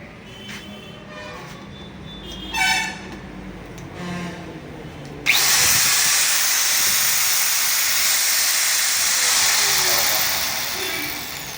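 A Dongcheng angle grinder switched on and left running, a loud steady high whine that starts abruptly after a few faint knocks and holds, tapering slightly at the end, close to the listener.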